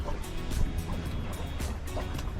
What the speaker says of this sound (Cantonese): 佢隻船都幾搖，因為佢嗰啲槳咧係左一下右一下嘅